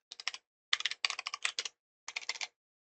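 Quick, close bursts of keystrokes on a computer keyboard while code is written, in four short clusters separated by brief pauses, crisp and alone.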